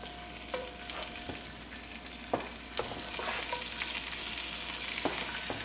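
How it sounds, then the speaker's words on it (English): Continuous sizzling and crackling of cold-smoked bacon frying in a pan, growing slightly louder, with occasional clicks and scrapes. "We're gonna put them on the frying pan."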